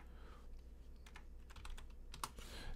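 Keys tapped on a computer keyboard in a short, irregular run of quiet clicks over steady low background hum, with no voices.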